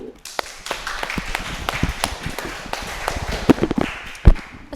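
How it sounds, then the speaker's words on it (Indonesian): A small group in a school setting claps in scattered, uneven bursts of individual claps close to the listener, loose and irregular rather than a full ovation. "Tepuk tangan."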